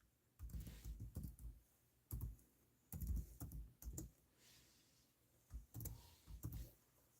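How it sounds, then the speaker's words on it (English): Bursts of typing on a computer keyboard come in several quick clusters of clicks separated by short pauses, close and fairly quiet, during a live auction session. "I'm going to start typing."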